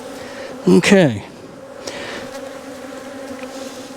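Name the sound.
honey bees buzzing around a hive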